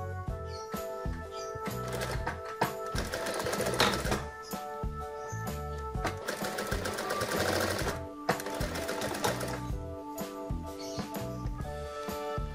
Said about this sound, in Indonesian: nah satunya saya jahit lagi